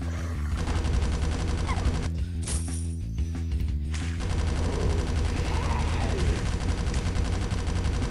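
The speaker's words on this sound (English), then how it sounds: "Shotgun." Shotgun blasts go off in the mobile zombie shooter Call of Mini Zombies, repeated booming shots layered over constant game music and effects.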